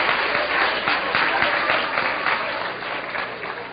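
An audience at a spiritist lecture claps continuously, a dense, steady wash of applause throughout with no pauses and no talking over it.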